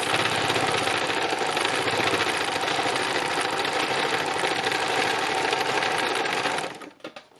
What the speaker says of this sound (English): Now this is fun free machining because nothing really matters.